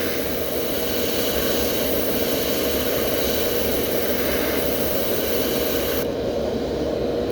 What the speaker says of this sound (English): You don't want to spray on the bait directly, you want to spray on the stencil.